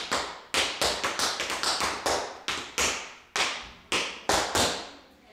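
Tap shoes strike a hard floor in a tap class, a run of sharp, crisp taps in quick uneven rhythmic bursts with short gaps, close and clear with no voices.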